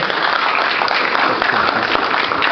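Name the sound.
audience applause for keynote speaker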